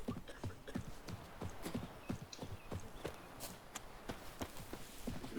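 Horse hooves clip-clop in a steady trotting rhythm through a village in The Witcher 3, moderately close with faint background ambience and some voices.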